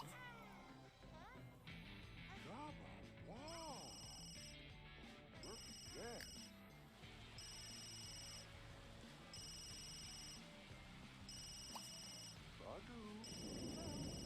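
A phone rings in The Sims 3 game with a repeated electronic ring in regular bursts. The ringing runs under game music with melodic tones, and no one speaks.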